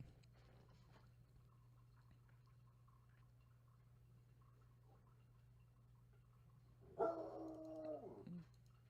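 A pet dog gives a short burst of barking and whining near the end, loud against an otherwise quiet room with a steady low electrical hum running throughout.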